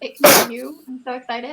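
One sharp, loud sneeze bursts out close by, surrounded by brief excited speech from a few voices just before and after it.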